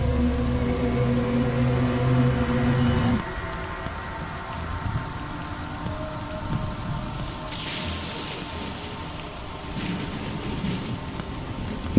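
Steady rain patters and hisses on a surface after a musical intro fades out, with occasional low rumbles of distant thunder rolling through.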